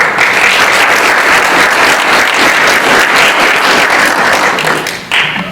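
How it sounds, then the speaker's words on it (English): Loud, dense audience applause at an International Women's Day celebration, a full crowd clapping continuously with no pauses, easing off slightly at the very end. "a big round of applause for ourselves"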